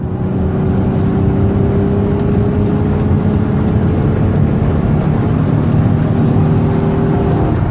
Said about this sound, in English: the van gets up to 65 miles an hour nicely